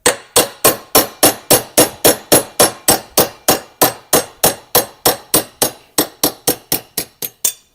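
Hammer striking metal while parts are pulled from a 350 small-block Chevy fast-burn cylinder head, about twenty-five sharp ringing blows in a steady quick rhythm, close and loud, slowing slightly near the end.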